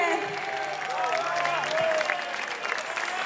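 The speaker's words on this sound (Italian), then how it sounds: "che bello sentire gli applausi" An outdoor crowd at a summer evening show in Piazza Manzoni, Jesolo, applauds steadily, a dense continuous wash of clapping with some voices and speech mixed in.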